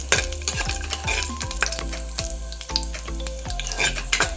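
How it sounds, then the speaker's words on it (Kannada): Ingredients for shavige sweet sizzle and fry in a pan, a steady crackling hiss with repeated scraping stir strokes throughout, close and fairly loud, with no voices. "ಫಸ್ಟ್ ಇದು ಫ್ರೈ ಮಾಡಿ ಎತ್ತಿಕೊಂಡು ಆಮೇಲೆ ಶಾವಿಗೆನ ಫ್ರೈ ಮಾಡ್ಕೊತೀನಿ"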